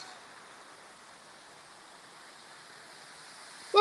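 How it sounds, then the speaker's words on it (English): Steady rushing water from a small artificial waterfall at an outdoor mini golf course, a continuous broadband hiss heard from a short distance, ending with a brief louder burst. "Look, waterfall."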